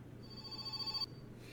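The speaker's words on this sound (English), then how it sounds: "Grandma waking me up with a phone call." A telephone rings in the video game My Summer Car, a bright electronic trill repeating for about a second before cutting off abruptly, moderately loud over a low background hum.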